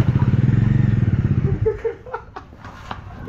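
A Bajaj Dominar motorcycle with its stock dB killer fitted idles in a close, steady, pulsing exhaust thump, then fades into a few sharp clatters.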